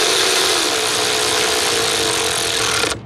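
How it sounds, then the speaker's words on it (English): A steady, loud whirring power tool runs close by for about three seconds while tightening bolts on a 6.7 Cummins diesel EGR cooler, cutting off abruptly at the end. "These bolts you want to be careful tightening."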